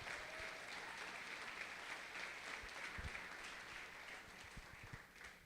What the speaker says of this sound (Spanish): Un aplauso para nuestros hermanos de Culiacán.